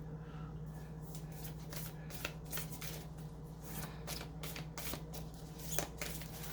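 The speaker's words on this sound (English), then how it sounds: "I'm gonna pull some cards from the Lover's Oracle." Lover's Oracle cards shuffled by hand: a steady run of close, soft riffling flutters and light slaps repeating over a low constant hum, with no talking.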